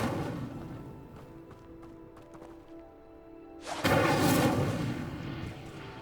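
A fire spell ignites pyres in Hogwarts Legacy, a sudden loud whooshing flare of flames bursting up partway through and roaring on after a quieter stretch of low rumbling.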